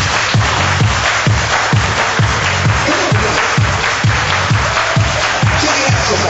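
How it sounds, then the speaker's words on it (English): Steady rhythmic hand clapping from a crowd on a wedding dance floor, about two claps per second, loud and continuous over thumping dance music. "Everybody clap your hands."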